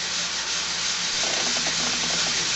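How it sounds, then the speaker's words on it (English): Steady abrasive rubbing as sandpaper works the edge of a cured resin bangle bracelet, a continuous close scratchy hiss with faint rhythmic strokes toward the end, no talking. "I'm going to keep sanding."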